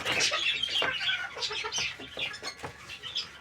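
Chickens clucking and squawking close by, several overlapping bursts of bright, busy fowl chatter continuing throughout.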